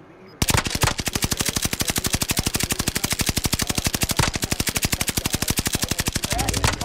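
Sustained automatic gunfire in a video game, a rapid, steady, loud burst of shots running for several seconds with hardly a break, as if firing at a helicopter overhead.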